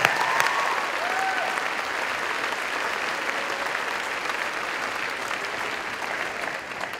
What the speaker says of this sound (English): one more shameless round of applause for the GAC teachers